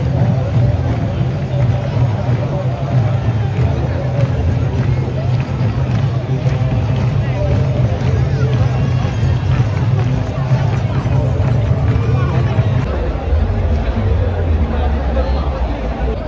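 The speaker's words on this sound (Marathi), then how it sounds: "खूप गर्दी आहे इथे" Dense crowd hubbub at the Mahashivratri festival by the river in Nashik, a steady loud wash of many voices and footsteps throughout, with a low rumble deepening near the end.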